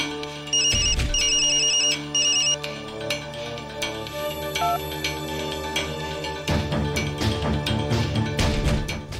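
An electronic phone ringtone repeats a bright melodic chime pattern, mixed with dramatic music and sharp crashing hits, with no one speaking.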